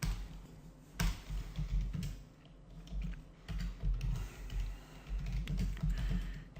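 Keys on a computer keyboard clatter in bursts of quick taps, close and fairly soft, with short pauses between runs and no talk.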